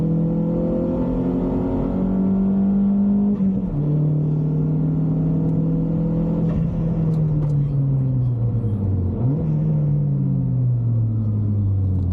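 Vauxhall Astra VXR on a cool-down lap at Donington Park track day, heard from inside as a loud, steady engine drone whose pitch holds, then slowly sags and rises again.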